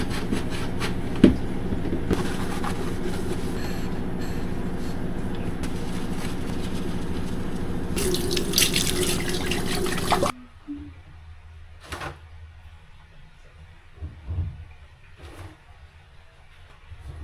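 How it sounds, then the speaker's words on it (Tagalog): A kitchen tap runs steadily for about ten seconds while dishes are washed, with a few clinks during the flow. The water then shuts off, leaving quieter handling sounds. "I'm going to wash the dishes."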